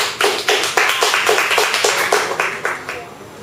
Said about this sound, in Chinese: 好啦，掌声欢迎他。